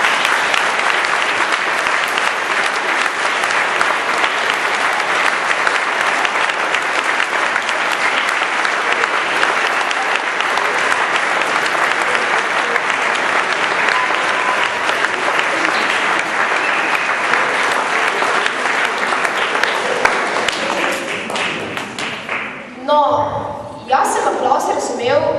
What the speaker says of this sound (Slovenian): zaslužimo še en močan aplavz.